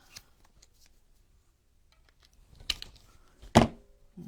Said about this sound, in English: I have some clippers that work much better than my scissors.